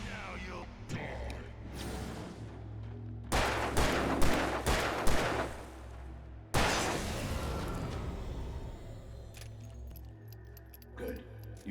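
Gunshots from the video game Alan Wake Remastered crack in loud bursts, then fall back to tense background sound and scattered clatter. No one speaks over it.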